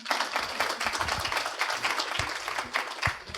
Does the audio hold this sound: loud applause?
yes